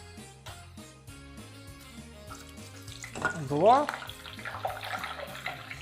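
Chicken Kyiv cutlets go into hot oil for deep frying, setting off a burst of bubbling sizzle that surges loudly for a moment, then settles into a steady crackle beneath music and a brief spoken word.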